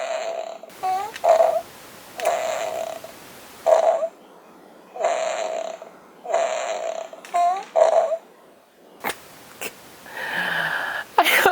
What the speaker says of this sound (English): Boomtower's key is the fart key.